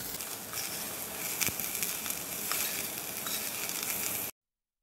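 Chopped cabbage being sautéed in a pan, a continuous close sizzle and hiss with scattered crackles and occasional scraping stirs, ending abruptly.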